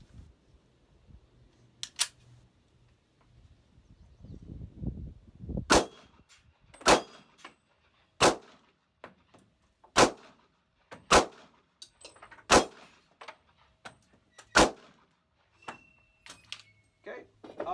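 Six sharp shots from a Smith & Wesson Shield .45 ACP pistol fired at a range, evenly spaced over several seconds, crisp and loud against a quiet background.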